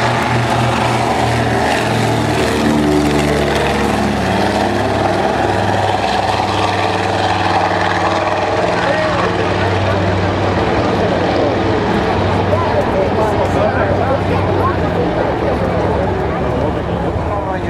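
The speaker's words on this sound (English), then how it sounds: "Taking to the sky now, the museum's consolidated PBY-5A Catalina." A Consolidated PBY-5A Catalina flying boat takes off at a WWII-era warbird airshow by the beach, its propeller engines giving a loud, continuous throaty drone while an announcer talks over it.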